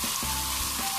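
Chicken frying in a pan as biryani masala is stirred in, giving a bright continuous sizzle close by with a few soft stirring knocks.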